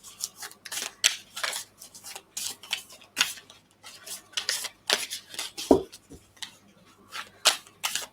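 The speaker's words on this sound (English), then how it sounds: "As I'm shuffling the cards for you, Melody" Tarot cards being shuffled by hand, giving repeated crisp riffling and flicking bursts in an irregular rhythm, close and fairly quiet, with a single soft thump midway.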